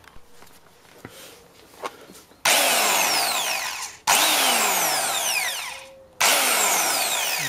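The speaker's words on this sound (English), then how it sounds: "Let's get the old power tool on it." A power tool works an alternator nut on a Honda Denso alternator in three long, loud bursts, each a strained mechanical whir that winds down before the next trigger pull, after a few light clicks and taps.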